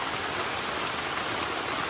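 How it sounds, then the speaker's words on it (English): Heavy rain pours steadily during a summer thunderstorm on a wooded creekside trail, a dense, continuous hiss of drops close by with no talking. "lots of rain coming down here"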